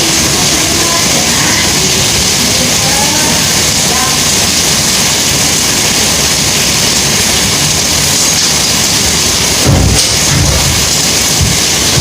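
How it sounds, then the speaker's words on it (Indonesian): Heavy rain keeps up a loud, unbroken roar throughout, and a deep rumble of thunder swells near the end. "Hujan guys, di sini hujan."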